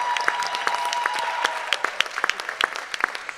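Audience applause at a public media discussion forum, a steady bed of many hands clapping with distinct sharp claps standing out, heard close and without talk.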